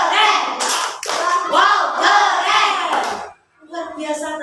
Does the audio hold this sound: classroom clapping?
yes